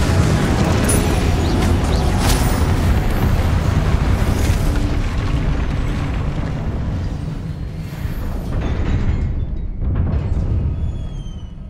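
Confringo and Incendio spell explosions in Hogwarts Legacy roll out as continuous loud, booming blasts and fiery rumbles that fade toward the end of the stretch.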